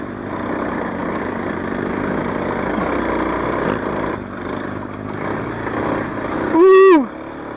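A dirt bike engine, either a Kawasaki KLX 300 or a KTM 300 XC, runs steadily through a broad, continuous drone while out riding, ending in a brief louder rising revving sweep near the close.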